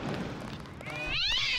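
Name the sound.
cat meowing in Deus Ex video game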